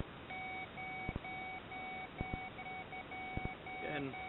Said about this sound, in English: And constant tone but an occasional bleep.